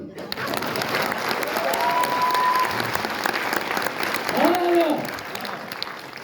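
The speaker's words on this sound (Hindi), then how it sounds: "अब बजाओ ताली।" Applause from an audience at a motivational success-story event, a steady wash of clapping throughout with a voice talking over it partway through.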